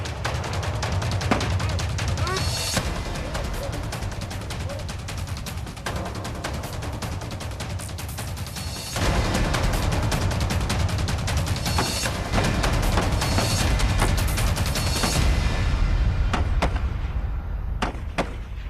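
Indian army soldiers firing new assault rifles during counter-insurgency practice near the border, dense rapid bursts of loud gunfire overlapping continuously, with a few isolated sharp shots near the end.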